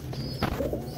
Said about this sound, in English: My God, birds.